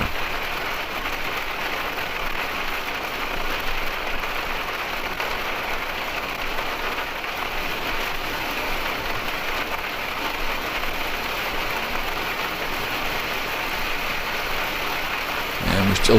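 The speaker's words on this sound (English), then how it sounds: "Yeah, it's raining harder and harder." Heavy rain pelts a motorhome driving through a construction zone, a steady, loud hiss of drops on the roof and windshield that holds unbroken throughout with faint road rumble beneath.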